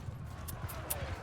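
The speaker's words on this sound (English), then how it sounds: "God damn it, my horse literally just ran away from me." A horse gallops off in Mount and Blade 2 Bannerlord, rapid hoof clip-clops in a quick uneven rhythm, moderately close and fairly faint against a low rumbling background.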